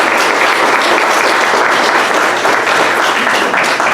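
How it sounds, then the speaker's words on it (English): Audience applause for a speaker at a community forum, a dense, steady wash of many hands clapping at full loudness throughout, with no voices standing out. "Let's give him a big round of applause."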